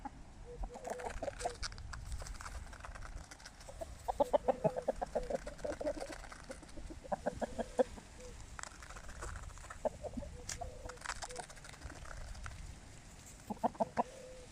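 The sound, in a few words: rooster crowing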